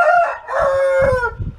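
A rooster crows loudly and close by on a farm, penned in a shed. The call is one long drawn-out cock-a-doodle-doo lasting over a second, with faint clucks and farm noise underneath.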